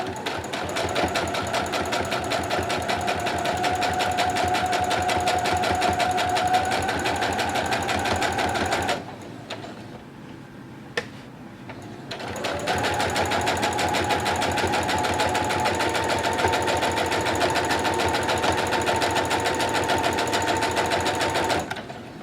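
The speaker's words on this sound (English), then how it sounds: "So I can just keep on stitching." A sewing machine stitches fabric napkins, its needle whirring in a fast, even mechanical buzz close by, briefly stopping midway before running steadily again.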